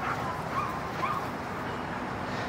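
Several dogs, including puppies, make short whiny yips and grumbles while wrestling in rough play, faint and a little distant against constant background noise.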